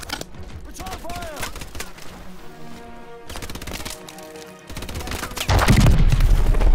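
Gunfire in Call of Duty Advanced Warfare: rapid, sharp shots and bursts crackle in clusters amid game music and effects, growing louder and denser toward the end as heavy blasts take over.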